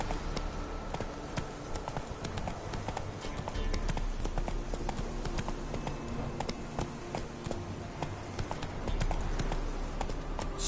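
Horse hooves clip-clop at a steady trotting rhythm while riding in The Witcher 3, a continuous close series of hoof beats over soft ambient game sound.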